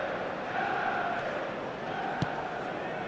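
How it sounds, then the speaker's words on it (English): Steady stadium crowd roar from a football video game match, Manchester United against Liverpool, a dense continuous wash of distant voices at even loudness with one brief sharp knock partway through. "And the match day noise at this place is truly special."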